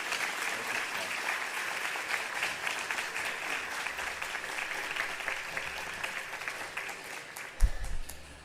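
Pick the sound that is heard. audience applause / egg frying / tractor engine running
audience applause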